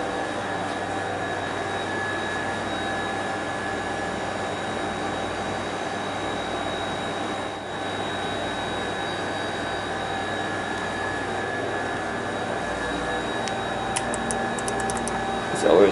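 A Schindler 330A hydraulic elevator runs at a hotel in Intercourse, Pennsylvania, giving off a steady, continuous mechanical hum with a faint whine that holds level throughout.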